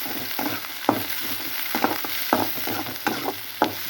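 Finely chopped small onions sauté in hot oil for a goat brain stir-fry, a steady sizzle broken by periodic scraping stirs of the spatula, close and clear with no talk.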